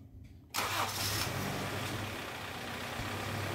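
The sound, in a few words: Honda CR-V Gen 1 engine starting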